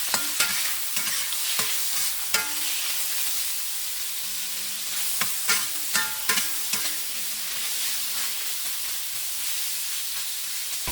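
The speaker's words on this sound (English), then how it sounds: "We'll stir fry pork belly about 3 to 5 minutes until the pork belly caramelized." Pork belly stir-fried in a hot pan, a continuous sizzle and hiss with repeated scraping and clacking strokes of the spatula at irregular intervals, close and moderately loud with no talking.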